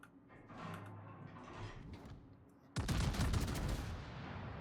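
Naval guns fire shells in World of Warships: a quieter stretch of mechanical game sound, then a sudden loud, dense salvo of gunfire that keeps roaring to the end.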